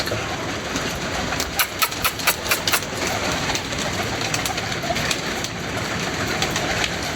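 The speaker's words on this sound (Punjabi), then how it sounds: "ਕਬੂਤਰ ਕੁਛ ਜਿਹੜੇ ਬੰਦੇ ਹੋਏ ਨੇ ਨਾ" Pigeons coo in a loft, with a short run of bird calls and wing or body sounds midway over steady background hiss, fairly close and moderately loud, with no talking.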